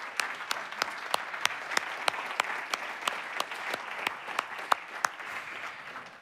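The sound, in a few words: audience applause for event organizers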